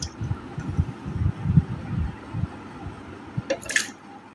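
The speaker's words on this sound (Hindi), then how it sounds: "अब मैं जामुन शामिल करूँगी।" Jamun fruit drops into a juicer holding a little water, giving soft wet plops and squishy thuds in quick succession, close and fairly loud, followed by a brief clatter near the end.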